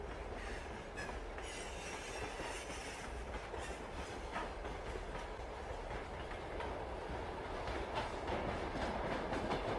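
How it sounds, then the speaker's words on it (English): A train rolls along the rails at night with a steady, continuous rumble and a soft rhythmic clatter of wheels over the joints. Faint squeals rise now and then over the even, enveloping noise. "From here, you can feel the movement of the train even more clearly."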